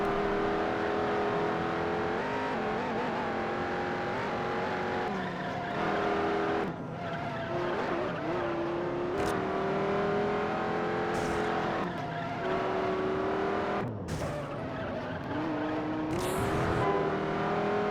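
A race car in the Juiced video game roars steadily through a lap with shifting engine pitch, gear changes and brief tyre squeals, loud and continuous, with faint talk underneath.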